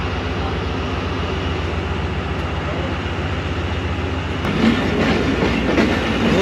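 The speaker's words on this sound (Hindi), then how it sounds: "ये चल पड़ी है ये ट्रेन शादरा बाग रेलवे स्टेशन से।" The Badar Express pulls out of Shahdara Bagh railway station near Lahore, its loud, steady rolling rumble and clickety-clack of the wagons close by, growing heavier and busier partway through.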